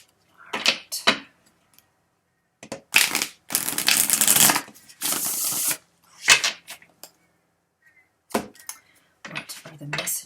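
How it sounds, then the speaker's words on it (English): Tarot cards are shuffled by hand in quick riffling bursts of crisp, close papery flutter, separated by short silences, with one longer continuous shuffle in the middle. "I'm going to give it a good shuffle."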